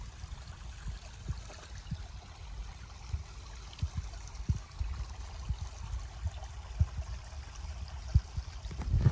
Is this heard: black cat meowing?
no